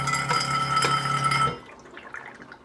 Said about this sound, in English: then we're going to go ahead and rinse this out